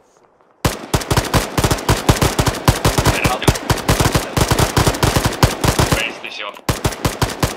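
Rapid machine gun fire from the military shooter game Arma 3 rattles in a long, loud, steady burst of close shots, broken briefly near the end, with a short spoken remark at the start.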